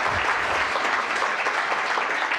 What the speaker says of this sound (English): Again, a great warming applause for Donatella.